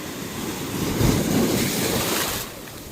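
Strong ocean waves splash and churn near a snorkeler off the coast at Akumal, Mexico, a loud continuous broadband wash with wind buffeting the microphone and no speech.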